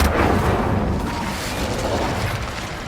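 Incendio fire spell cast in the video game Hogwarts Legacy, a loud sustained rumbling burst of roaring flame with boomy low-end weight that fills the whole stretch without pause.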